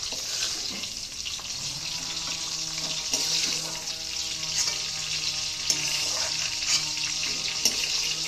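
Cashews and raisins fry lightly in a pan, giving a steady, close sizzle that runs unbroken the whole time, with faint background hum and no talking.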